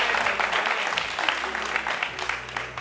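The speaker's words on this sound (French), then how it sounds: "On peut applaudir pour ça." Studio audience on a French-language television talk show applauds steadily, with dense clapping sustained throughout at close range.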